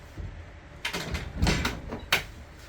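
A door is handled and locked indoors, with a few sharp clacks and rattles of the latch and bolt spread over a couple of seconds, fairly close and quiet.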